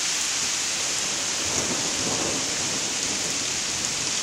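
A strong fall thunderstorm: heavy, steady rain pours down close by while thunder rumbles continuously underneath, a loud unbroken wall of storm noise.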